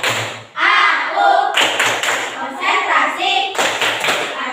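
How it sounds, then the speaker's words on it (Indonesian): Schoolchildren in a classroom perform the tepuk konsentrasi clap game, clapping in short rhythmic bursts together while chanting aloud. The groups of claps come in a patterned sequence with brief pauses between them. "Ayo semuanya, tepuk konsentrasi."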